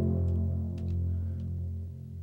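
A VPS Avenger sine bass swell with saturation distortion added holds a deep sustained low note with a gritty harmonic overtone layer, steady and close, with no talk.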